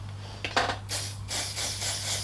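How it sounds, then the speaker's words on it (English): A few quick hissing bursts of Dior Backstage Airflash spray foundation onto a makeup brush, close by, with a short clicking sound before them and a steady low hum underneath. "And then spray the brush."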